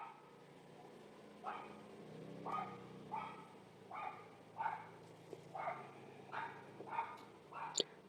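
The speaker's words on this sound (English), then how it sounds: "Sorry about the dog again." A dog barks repeatedly during a quiet gentle yoga class, about eight short barks at a steady rhythm, moderately close but not loud, over a soft room background.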